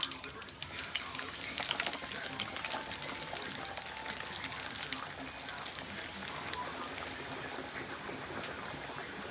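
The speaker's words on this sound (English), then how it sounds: "Watch that bubbling, guys, like I said." Steady, dense crackle and sizzle of chicken thighs frying in bubbling hot oil, continuous and close, with faint clinks now and then.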